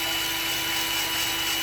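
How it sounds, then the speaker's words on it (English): A drill spins a bit inside fine filter foam from a water dispenser fish tank, giving a constant, loud whirring motor drone with a steady tone throughout. "if you put a drill bit in there,"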